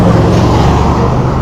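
A car passes close by on an urban road, heard from a single-speed bicycle as a loud, steady rush of engine and tyre noise.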